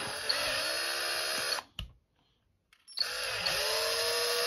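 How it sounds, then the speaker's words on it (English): A power drill with a 4.5 bit whines steadily as it bores holes into styrene plastic on a 1/25 scale model car, stopping briefly for about a second before spinning up again, close by. "And drill them out."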